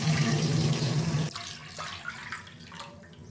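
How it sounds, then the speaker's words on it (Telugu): Water pours into a pan while semiya kesari is being made, a steady rushing stream that runs loudly for just over a second, then cuts off, leaving softer splashes and trickles. "ఇప్పుడు మనము అదే ప్యాన్లో వాటర్ యాడ్ చేద్దామండి"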